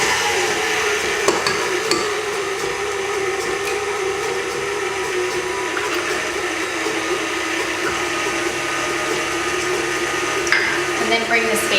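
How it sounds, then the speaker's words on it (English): KitchenAid stand mixer running at speed 4, beating cupcake batter with added eggs, a steady continuous whir and rattle that holds level throughout with small knocks. "On my KitchenAid I've got it on speed 4."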